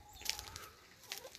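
Chickens cluck close by in their backyard run on a self-sufficient homestead, with short bursts of fowl calls over low outdoor background noise.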